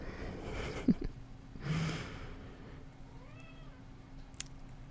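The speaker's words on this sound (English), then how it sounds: "I wonder if you can hear my cat in the background" A faint cat meow rising and falling in the background, along with soft snuffling and a quiet room hum.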